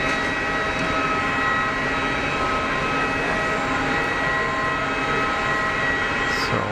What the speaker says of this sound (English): It's a 321 Neo.